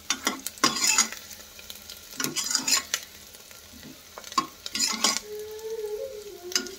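Onions frying in a pan for a Hindi-style parwal curry, with bursts of crackling sizzle and scraping stirring strokes that come and go in uneven clusters, close and moderately loud.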